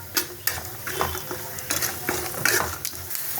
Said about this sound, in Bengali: বাদামটা একটু লাল লাল করে ভেজে নেব।